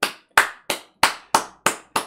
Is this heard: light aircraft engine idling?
no